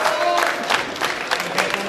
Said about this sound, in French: Et quelques applaudissements pour Gaspard, le nouveau papa.